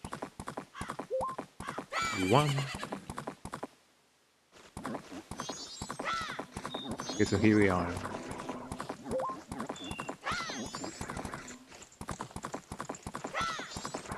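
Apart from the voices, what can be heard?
horse Epona trotting in video game Majora's Mask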